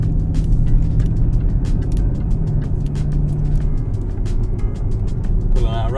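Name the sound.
Jaguar car driving in automatic, pulling out of roundabout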